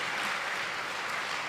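An audience at a motivational speech breaks into dense, steady applause, many hands clapping continuously and loudly throughout, with no voice rising above it.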